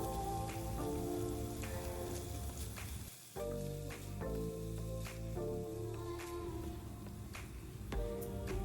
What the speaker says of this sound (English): now we need to saute the paneer cubes till they turn light golden brown and are coated well with the seasonings